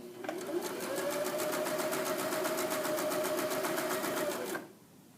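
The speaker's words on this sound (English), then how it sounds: "please find a part on your machine to use as a guide as you're sewing" Sewing machine stitching along the top of a bag: a close, steady, fast mechanical whir with rapid needle ticking that runs evenly for over four seconds, then stops abruptly, with no talking.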